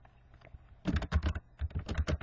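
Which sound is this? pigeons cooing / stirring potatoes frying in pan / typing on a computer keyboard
typing on a computer keyboard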